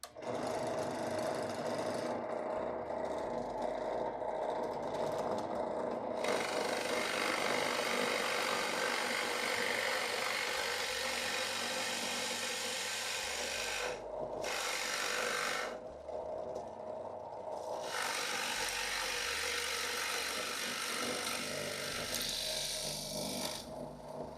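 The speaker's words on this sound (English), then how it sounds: "it drills a flat, wide hole as opposed to a normal drill bit" A power drill with a Forstner bit grinds steadily through wood for about twenty seconds, loud and close, with two brief pauses where the motor cuts out before resuming.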